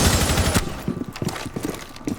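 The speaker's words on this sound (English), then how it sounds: "shooting people at range like I am at the moment is always going to be more difficult to control recoil" Rapid bursts of rifle fire in Rainbow Six Siege, a loud, dense volley at first, then sparser clusters of sharp shots trailing off.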